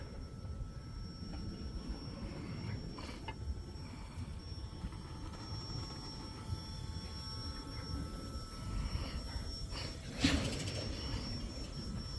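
A slow Wheeling & Lake Erie freight train rolls past close by, a steady low rumble of railcars with faint wheel squeal and a brief louder clank near the end, no talking.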